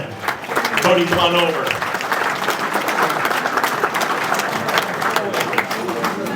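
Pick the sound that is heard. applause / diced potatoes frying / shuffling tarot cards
applause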